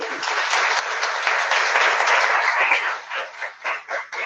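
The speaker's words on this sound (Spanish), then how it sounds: "solicito un fuerte aplauso" A conference audience at a psychogeriatrics lecture applauds the international speakers, a loud, dense burst of clapping that holds steady and then thins into scattered, fading claps near the end.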